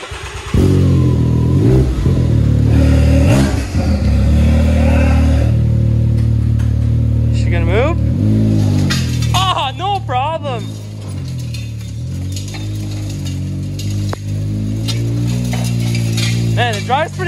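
A 4x4 side-by-side fitted with custom metal wheels drives loudly and continuously, its engine droning and revving while metallic grinding, clanking and squealing from the tires runs throughout, close up with no voices.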